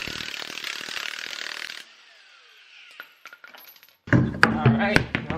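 A ratchet works on a Chrysler PT Cruiser wheel. A steady buzzing spin from the tool gives way to light metallic clicks, then louder clanks and rattles close by.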